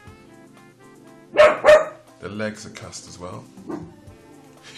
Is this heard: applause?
no